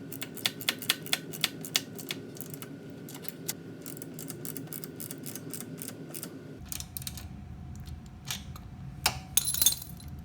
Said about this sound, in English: We're ready to tighten down the bolts now.